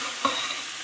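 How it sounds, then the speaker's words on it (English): Garlic and vegetables sizzle in a pot for curry sausage, a soft, steady frying hiss with one brief clink of stirring near the start. "you can hear that slight sizzle"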